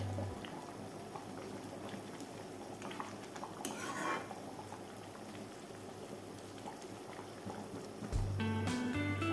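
Egg curry simmers gently in a covered pot over a low gas flame, a soft continuous bubbling that stays faint, with a small clink near the end.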